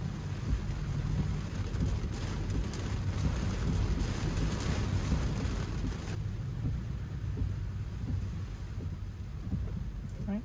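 Heavy rain pelting a car during a rush hour drive in traffic, a dense steady hiss and drumming on the vehicle with low road rumble underneath, continuous throughout.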